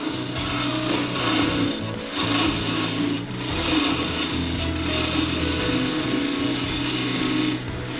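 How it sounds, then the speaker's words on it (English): A carbide tool cuts into wood spinning on a lathe while turning a wooden mallet, giving a loud, continuous rough scraping whir with brief dips as the tool is pushed in and moved along. "you just push in and then move over about half the width of the carbide and then push in again"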